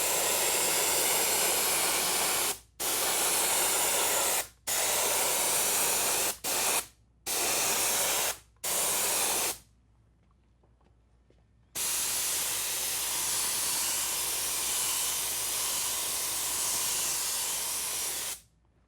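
A compressor-powered sprayer misting colour onto chocolate, loud steady hissing bursts cut by short pauses, then a longer silence and one extended continuous spray, close and alone with no talking.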